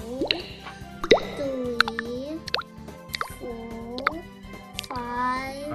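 Drops of green food coloring plop one by one into oil, giving several distinct, close wet drips spaced about a second apart, with a child and an adult talking softly between them.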